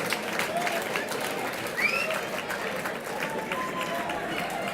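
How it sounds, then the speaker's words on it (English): Crowd applause after a three-round women's white collar boxing bout in London, a steady broadband wash of clapping filling the hall at even loudness, with cheering voices and an announcer talking over it. "a big round of applause for both these ladies"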